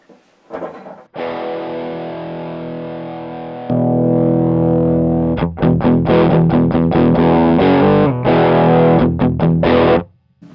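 A heavily overdriven electric guitar through an Outlaw Effects Cactus Juice overdrive pedal in juiced mode rings out sustained chords, then chops into choppy, rhythmic distorted strums before cutting off.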